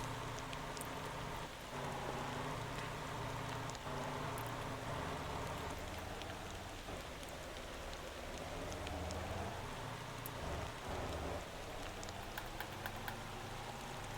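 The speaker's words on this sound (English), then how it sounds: "The rain doesn't help at all." Steady rain falls in the truck-driving game Motor Town, making a continuous, even hiss and patter for the whole stretch, with no talking over it.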